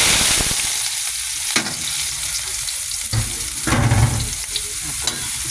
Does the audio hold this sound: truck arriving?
no